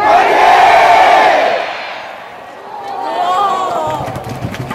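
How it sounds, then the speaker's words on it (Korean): A baseball stadium crowd at Gwangju Champions Field roars in a loud, swelling cheer that dips and then rises again, with shouting voices and some clapping at the close. "박수와 함성을 부탁드립니다"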